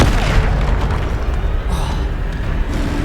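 A Bombarda blast spell from the Hogwarts Legacy video game lets off a loud, dense, rumbling explosion that fills the clip with sustained booming bursts, and no one talks.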